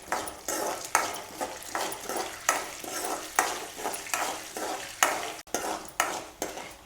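Dals dry-roasting in a pan for sambar powder, stirred with a spatula in steady rhythmic scrapes and soft rustling sizzles, close and moderately quiet, with no voices.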